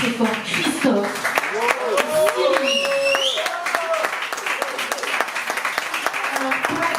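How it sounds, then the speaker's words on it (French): Audience clapping at a Djoliba concert in Nice, with cheers and whoops rising over the applause and a voice briefly heard among the crowd noise. "je vous demande d'applaudir très très fort Christophe"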